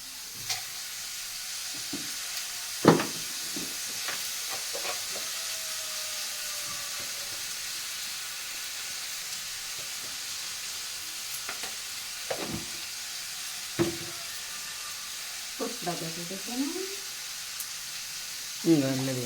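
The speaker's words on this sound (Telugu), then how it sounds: "ఉల్లిపాయలు టమాటాలు బాగా వేగినాయి." Onions and tomatoes fry in a pan, making a low, constant hiss, with scattered clinks and scrapes of stirring at irregular moments throughout.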